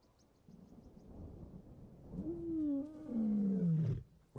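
A lone lioness roars in the wild, one long, loud, deep call that swells and then drops away, rising out of quiet ambient rumble with nobody speaking.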